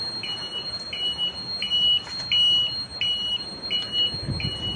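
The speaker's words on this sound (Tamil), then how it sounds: "இது இண்டிகேட்டர்." Repeated electronic beeps from the turn indicator buzzer of an electric load vehicle, a steady, evenly spaced pulse heard up close with no talk.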